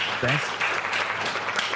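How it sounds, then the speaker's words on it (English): Live studio audience applause at a podcast taping, a broad dense clapping wash that fills the clip steadily with a brief voice near the start. "is that a sound effect of that applause"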